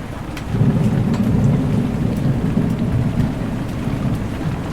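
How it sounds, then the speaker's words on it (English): Heavy rain and a thunderstorm near a boat anchored close to Miami, with lightning nearby: a dense steady roar of rain on surfaces under a deep rolling rumble of thunder, loud and close, no voices. "Just before 10 a.m., it's still raining"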